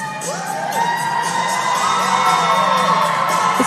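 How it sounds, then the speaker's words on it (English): Acrobatics and tumbling teams cheering each other on at a championship, a loud, steady crowd of high-pitched shouts, whoops and cheers filling the arena close by, with no talk over it. "It's great to see the teams work together, forming a tunnel together and cheering each other on."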